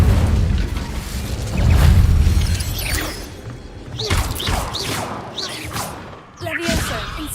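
Incendio fire spell cast in Hogwarts Legacy: a string of loud whooshing bursts and booming impacts that rise and fall over several seconds, mixed with other game effects and a little voice.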